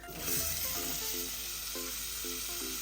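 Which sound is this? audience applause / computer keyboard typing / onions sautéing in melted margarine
onions sautéing in melted margarine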